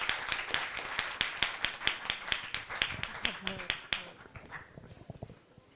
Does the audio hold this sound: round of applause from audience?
yes